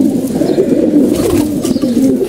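Pigeons in a home loft coo in a loud, close, continuous stream of low rolling calls, with no voices.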